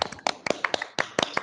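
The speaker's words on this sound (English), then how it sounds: "give an applause for Alex" Participants in an online meeting clap in a few scattered, uneven bursts. The sharp hand claps come through sparse and close, without any talk.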